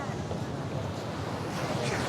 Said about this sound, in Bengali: দেখুন একটার পর একটা ঢেউ কীভাবে পাড়ে আসতেছে